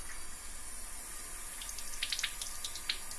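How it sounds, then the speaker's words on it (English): Salad greens are washed under a running sink tap, a steady close hiss of flowing water with light splashing and leafy rustles toward the end, recorded binaurally, with no voices. "I'm going to go over here to the sink and we're just going to wash these off a little bit"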